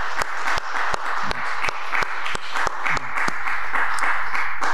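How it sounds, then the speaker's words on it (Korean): A church congregation claps at a special early-morning prayer service, a dense sustained wash of applause with sharp individual claps punctuating it throughout, steady and fairly close. "우리 박수로 하나님께 영광을 좀 올려드리도록"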